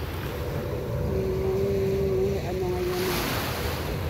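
Steady surf washes continuously on a beach in Boracay, a broad rushing roar with wind blowing across it and a faint aeroplane engine drone in the distance.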